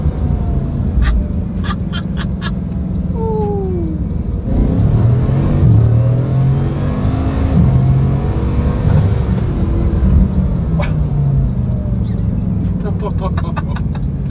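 A Ferrari F40 accelerates hard, its engine revving and climbing in pitch through the gears. The engine is loud and close, heard from inside the car, and voices come in at times.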